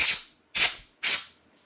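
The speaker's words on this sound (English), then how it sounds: "I'm gonna blow it off" Three short, sharp blasts of compressed air blow off the recoil part of an old curbside weed eater, each a loud hiss that fades quickly, with brief pauses between them.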